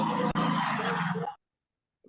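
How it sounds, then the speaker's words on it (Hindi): Traffic noise over a caller's open microphone: a loud, dense road roar with a tire-like hiss that holds steadily, then cuts off abruptly into silence. "मैंने आपको म्यूट किया क्योंकि बहुत आवाज आ रहा है वहां से, ट्रैफिक में बैठे हैं शायद आप"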